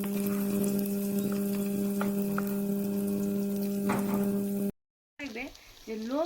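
Sago pakoras fry in hot oil in a kadai with a steady, close sizzle and bubbling, then a brief silence, followed by a voice speaking.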